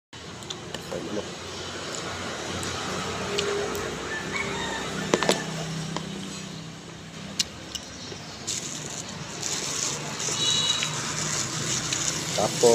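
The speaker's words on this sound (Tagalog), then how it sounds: "Ay, manok." Chickens cluck and a rooster crows outdoors among light traffic, with scattered fowl calls set well back behind a steady background hum of passing cars, while a person talks now and then.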